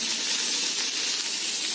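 Oil sizzling and hissing steadily in a pan as ingredients for spiny gourd subzi are sautéed until translucent, a continuous close frying sound with no talk.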